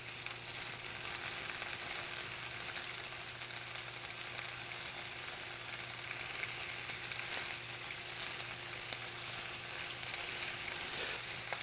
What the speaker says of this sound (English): It's very important when you're browning to make sure that you don't mess with it.